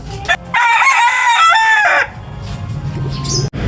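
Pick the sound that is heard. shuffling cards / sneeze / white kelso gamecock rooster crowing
white kelso gamecock rooster crowing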